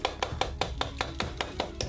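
A hammer knocks hardened cement off the body of an abandoned 1983 Yamaha Jog mini scooter, giving ten sharp, evenly spaced taps close by with no talk.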